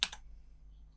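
Computer keyboard keys pressed as shortcuts in Blender 3D software: two quick close clicks at the very start, then quiet room hiss.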